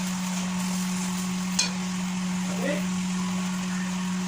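Food fries in a pan and is stirred during home Sunday cooking, a constant steady sizzle with a faint electrical hum and a brief scrape or two of the utensil.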